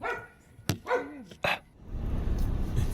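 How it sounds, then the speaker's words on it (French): A small dog gives a few sharp, close yips in quick succession near a barn under renovation, followed by a rising wash of rain or background noise. "Petit chien."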